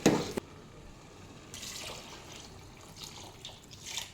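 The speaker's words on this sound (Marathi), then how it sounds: "यामध्ये आता भात शिजण्यासाठी आपण पाणी घालू" Water splashes briefly at the start, then a soft trickling pour continues into a pot of rice and fresh pigeon peas, faint and close.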